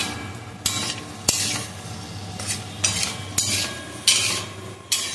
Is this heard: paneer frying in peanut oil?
yes